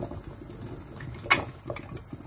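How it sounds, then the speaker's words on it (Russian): Tomatoes heating in a covered pot give a soft, low bubbling simmer that builds toward a boil, with one brief sharp clink partway through. "Помидоры пока накрываю крышкой и даю закипеть"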